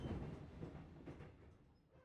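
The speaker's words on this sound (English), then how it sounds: "Why is the train noise so ominous?" A video game train rumbles in the background, a low, muffled rolling drone with faint rhythmic clatter that slowly fades over two seconds.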